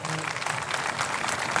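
Concert audience applauding in tribute at a union concert, a dense wash of clapping that stays steady and fairly loud through the short stretch.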